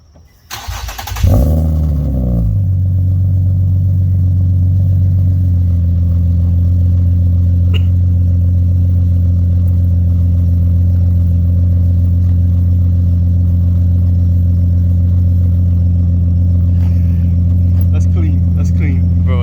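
Infiniti G37 sedan fitted with an ISR full exhaust fires up after a brief starter crank and settles into a loud, steady, deep idle that holds for many seconds, close by, with no talk over it.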